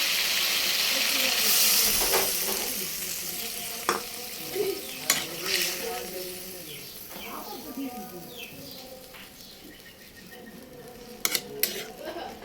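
A spice paste fries in a pan with a continuous sizzle while a spoon stirs and scrapes it, with occasional sharp metal clinks and someone talking over the cooking.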